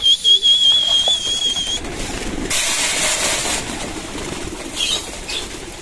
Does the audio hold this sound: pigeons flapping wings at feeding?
yes